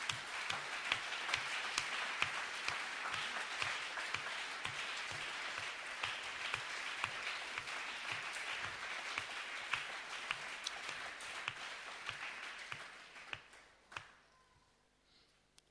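A church congregation claps together in praise of the Holy Spirit, a long, even rhythm of many hands that carries on for several seconds, then thins and fades out near the end.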